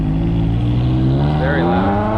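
A Ferrari 360 Spider engine idles with a steady, loud rumble that swells slightly, continuous throughout and set among other exotic cars.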